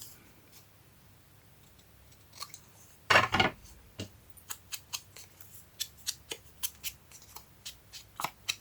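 Scissors cut paper close by. A loud crunching snip is followed by a steady run of crisp, evenly spaced snips at about two per second, heard alone in a quiet room.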